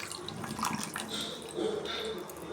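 Tamarind water is poured into a pot of bitter gourd kuzhambu, giving a close, gentle trickling splash with small gurgles that rise and fall over a couple of seconds.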